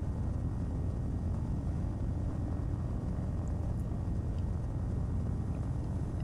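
Broad, steady engine and airflow drone of a simulated airplane making a very slow full-flaps landing on runway 34 in Flight Sim World near the Great Pyramids, continuous and even with no talk.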